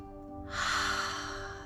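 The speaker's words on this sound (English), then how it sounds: "So you breathe in just to your upper chest, and then you take another breath into your lower diaphragm, and then one more into your belly." A single drawn-in breath filling the chest, diaphragm and belly during a three-part breathing exercise, close and fairly loud, swelling quickly and then holding as a steady airy rush.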